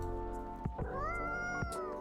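A small cat meows in the cozy café video game Coffee Talk, a few short rising mews over a steady background music bed, close and clear.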